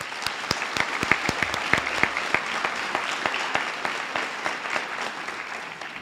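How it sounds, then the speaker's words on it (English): A graduation ceremony audience applauds a student speaker, with sharp individual claps standing out near the start over a steady bed of crowd clapping that gradually thins. "Let's give Alexa another round of applause."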